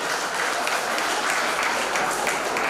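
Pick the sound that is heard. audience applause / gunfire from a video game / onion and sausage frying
audience applause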